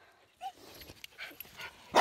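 A tiny dog gives a brief high whimper followed by a few soft yips and snuffles at an outdoor gathering, close and short, ending in a sharper sound.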